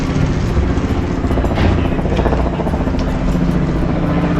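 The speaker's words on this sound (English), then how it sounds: "Chopper." A helicopter passes overhead on a walk through Ketchikan, Alaska, its steady loud rotor thrum and engine drone filling the scene continuously, with no talk over it.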